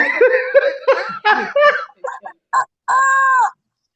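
People chatter and laugh, then a voice imitates a rooster crow with a few short calls and one drawn-out, sustained cry.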